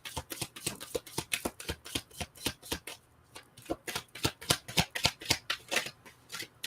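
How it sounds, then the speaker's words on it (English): Llewellyn Tarot cards being shuffled by hand, a rapid run of crisp riffling flicks with a short pause midway, close and fairly quiet with no talking. "let's pull some Llewellyn Tarot"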